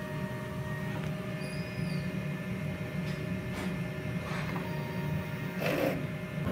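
A DTF printer runs a print head clean, giving a quiet, steady mechanical hum with a few soft whirring passes and clicks from the head and capping area.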